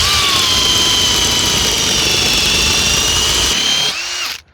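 A power drill bores steadily through a tire's steel belt, a loud high whine running for several seconds before it winds down and stops.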